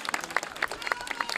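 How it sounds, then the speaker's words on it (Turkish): A studio or event audience claps briefly, giving scattered, uneven hand claps with sharp individual hits rather than a thick roar. The claps stay fairly close and moderately loud. "kocaman bir alkış daha alabilir miyim"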